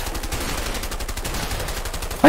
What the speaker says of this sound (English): I have a long range shotgun with a scope on it.